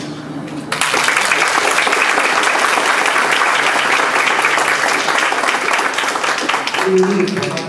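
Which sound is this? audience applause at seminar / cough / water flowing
audience applause at seminar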